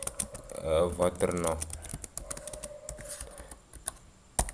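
Code being typed on a computer keyboard, a steady run of quick clicks with a short burst of French speech over the start.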